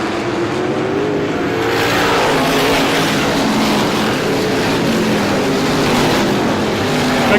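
ISMA supermodified race cars roar together at Star Speedway as the green flag drops, a loud, dense, continuous wall of engine noise with rising revs.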